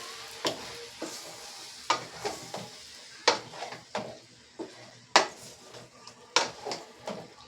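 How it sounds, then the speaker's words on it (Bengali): Mixed vegetables with a fish head cooking on a low flame in a pan, stirred repeatedly: a soft background sizzle punctuated by a dozen sharp spatula scrapes and clacks against the metal in an irregular rhythm, close up. "সব সবজিগুলো কিন্তু দিয়ে দিলাম, দিয়ে ভালো করে নাড়াচাড়া করে নিতে হবে।"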